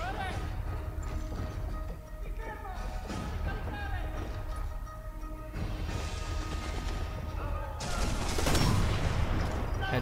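Gunfire in the video game Sniper Elite 4, a series of sharp shots and clattering bursts over a constant noisy game backdrop, with a louder cluster of shots near the end.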